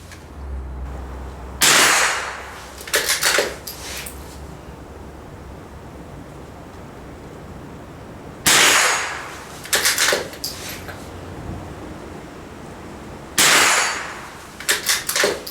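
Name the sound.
rifle shots hitting steel plate at shooting range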